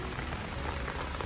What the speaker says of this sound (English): we've had another tropical downpour